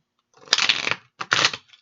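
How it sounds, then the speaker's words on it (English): A deck of tarot cards is shuffled in two quick bursts of riffling and flicking close up, with a brief pause between them and no voice. "Let's get one more shuffle."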